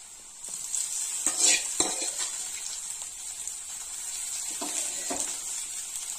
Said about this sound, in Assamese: আৰু এতিয়া মই বইল কৰি থোৱা তিতাফুলখিনি দি দিম